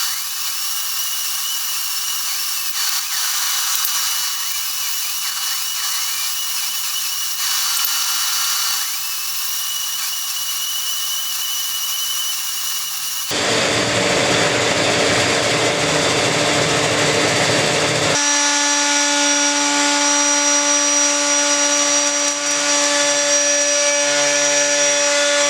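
A power saw cuts curves in a Douglas fir garden-shed door, a loud continuous high whine that shifts pitch as the blade works and then changes to a lower steady tone.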